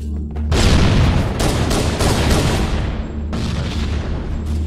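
A grenade blast in a first-person shooter video game: a loud, sudden boom that rolls into a long, dense rumble, followed by a second weaker burst near the end, with no talking.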